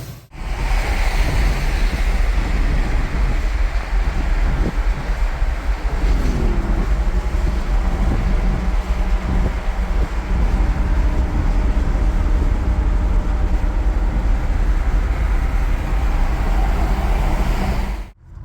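A customized 1961 Cadillac Fleetwood out on a test drive, with a loud, steady roar of road and wind noise that runs unbroken from start to finish and no talking.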